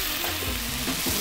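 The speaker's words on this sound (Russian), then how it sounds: "Обязательно должен сковородка раскаленная быть, вот, чтобы получилось наш блин." A pancake fries in a red-hot pan, giving a loud, continuous crackling sizzle close by with some scraping and stirring movement underneath, and no voices.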